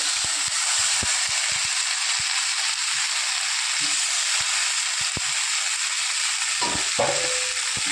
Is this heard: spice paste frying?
yes